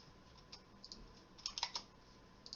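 Typing on a computer keyboard while writing Python code, a faint sparse scattering of key clicks with a short burst near the middle, quiet and without speech.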